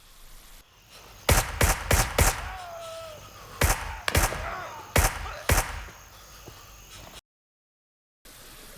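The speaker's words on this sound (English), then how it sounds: "The large volume of fire will only get more accurate even when sprinting." Gunfire in the military shooter Gray Zone Warfare, a series of sharp, separated shots in small bursts at moderate distance over faint insect-like ambience, followed by a brief dropout.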